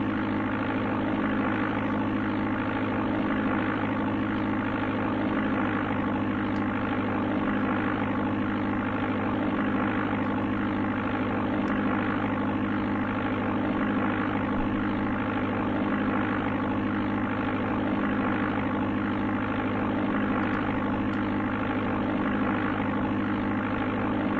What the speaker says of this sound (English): I gotta wonder where they sampled this engine sound from.